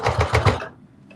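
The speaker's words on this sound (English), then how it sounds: "that's my sewing machine fussing me out." A home sewing machine stitches quickly through thick slipper heel layers with seam allowance, giving a rapid, even burst of close, loud mechanical stitching that stops after about half a second, leaving near silence.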